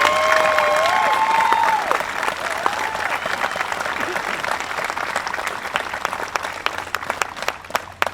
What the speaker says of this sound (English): So please give all the staff a round of applause